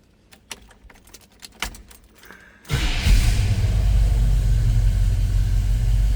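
A 1986 Chevrolet K10 regular cab long box pickup with Edelbrock four-barrel carburetor and HEI ignition: keys jangle, then the engine cold-starts abruptly and settles into a loud, steady, deep rumbling idle close by.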